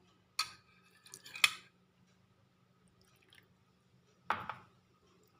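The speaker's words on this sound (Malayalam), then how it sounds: "മോര് വെള്ളം ഒഴിച്ചു കൊടുക്കാം." Buttermilk is poured into mashed curd rice, giving a few quiet, short wet splashes and squishy sounds separated by near silence.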